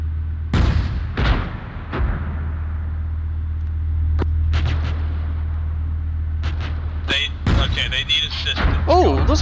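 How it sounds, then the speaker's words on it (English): Artillery guns firing in a military battle game, with several sharp booming blasts scattered over a steady low vehicle rumble, and a voice speaking near the end. "those are all Arty guns"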